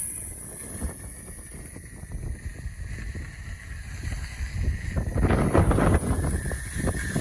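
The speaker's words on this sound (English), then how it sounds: "That wind is serious, man, right here. I think it's this alleyway." Strong wind blows through a narrow alleyway between closely spaced houses, a rumbling, buffeting rush against the microphone that builds into louder gusts toward the end.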